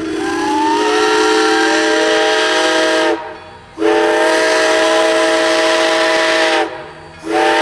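A steam locomotive, Grand Canyon Railway #29, sounds its whistle as a five-minute boarding warning: two long, loud, harmonic blasts, each about three seconds, separated by a brief gap, with a third starting at the end.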